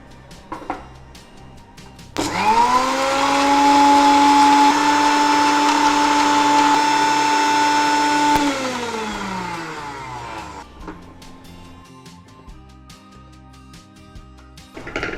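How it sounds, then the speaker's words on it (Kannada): A kitchen blender dry-blends coriander leaves in one continuous whirring burst lasting several seconds, its motor pitch steady and loud before winding down, with no talking during the run. "ಇದನ್ನು ಒಮ್ಮೆಗೆ ಬ್ಲೆಂಡ್ ಮಾಡುವ ನಾವು"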